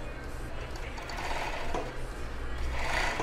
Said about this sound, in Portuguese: Agora eu consigo colocar ele aqui pra poder costurar essa beiradinha aqui que não pegou.